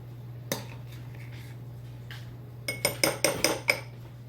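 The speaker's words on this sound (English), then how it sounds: "you're going to use your spoon and you're going to scoop some into this bowl and then some into that bowl" A spoon scooping yogurt into bowls makes one bright clink, then after a pause a quick run of five or so ringing taps against the dishes, close and crisp in a quiet room.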